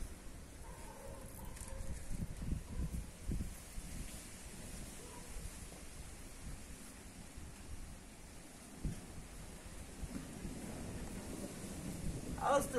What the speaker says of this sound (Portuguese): Trovão, ó.